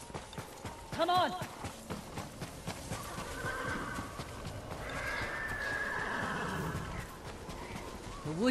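A horse whinnies once with clear rising-falling calls, followed by steady clip-clopping hooves in a busy Ghost of Tsushima game soundscape with ambient noise.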